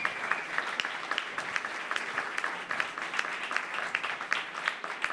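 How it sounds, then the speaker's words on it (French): An audience at a video awards ceremony claps, a moderate steady patter of many hands with distinct sharp individual claps standing out, even and sustained throughout with no talking. "On peut l'applaudir."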